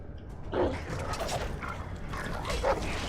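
A dog barks and snarls during an attack in the Game of Thrones video game, with two sharp yelps over a busy bed of mechanical creaks and scuffling combat sounds, and no talk.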